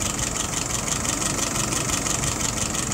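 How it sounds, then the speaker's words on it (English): A car engine idles steadily at about 680 RPM, loud and close, with an even low rumble and a slight knocking pulse and no voices. "Here she is, happily idling away."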